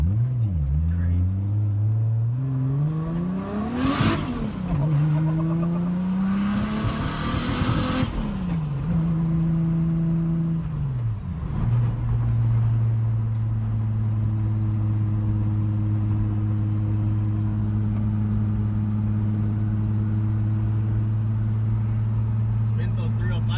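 A Nissan 240SX engine revs up and down in several rising and falling sweeps, then settles into a sustained high drone, while the 305 tires spin with a bright rushing noise at two points; loud and close.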